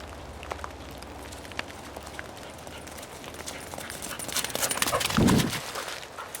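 A dog runs through the woods, its quick footfalls and rustling in leaves growing louder as it approaches, ending in a close burst of movement near the end.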